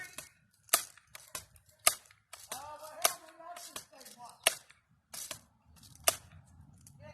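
Air rifle shots striking half-inch plywood outdoors: a series of sharp, loud cracks spaced irregularly, with softer clicks between them and some voices talking in the gaps.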